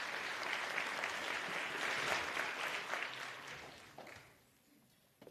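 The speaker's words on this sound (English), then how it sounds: "Can we please give Madam Shidute another round of applause" Audience applause at an Africa youth tourism innovation summit, a dense steady clapping from a crowd that fades out over the last second or so, fairly faint with no talk.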